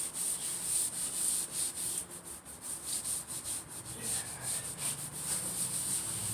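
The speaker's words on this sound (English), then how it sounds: "We'll just rub it with our hands." Hands rubbing across a plywood surface in a garage workshop, producing a steady, repeated scuffing swish in short strokes, close and moderately loud with a faint high whine in the background.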